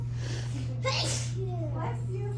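A single sharp sneeze bursts out over a low steady hum in a classroom, followed by faint voices talking nearby.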